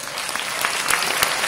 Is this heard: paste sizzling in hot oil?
no